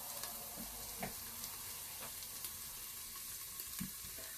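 Chopped onion frying in a Tefal Cook4me pot gives a faint, steady sizzle with soft crackles, punctuated by occasional light clicks and taps of stirring, with no voices.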